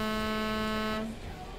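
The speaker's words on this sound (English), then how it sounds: "But then you have the one, the air horn on top of the cab." A truck's roof-mounted air horn in Euro Truck Simulator 2 during a multiplayer Halloween event blares as a loud, steady harmonic tone for about a second, then cuts off, leaving background noise.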